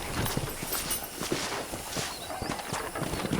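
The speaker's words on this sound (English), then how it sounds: "I picked out a fine horse for you." Steady clip-clop of horse hooves on hard ground in the video game Red Dead Redemption, a brisk walking rhythm at moderate distance, with a faint snort.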